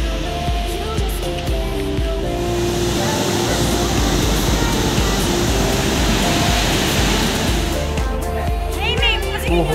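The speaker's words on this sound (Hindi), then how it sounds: "देखो वाटरफॉल" Waterfall along the Machail Mata pilgrimage trail near Gulabgarh, a steady full-band rush of falling water that runs loud and unbroken throughout, with voices faintly mixed in.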